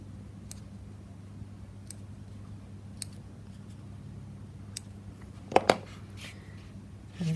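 Small scissors snipping into sugar paste dahlia petals: a series of faint, crisp clicks spaced irregularly, with a quick double snip near the end, close and quiet over a low background hum.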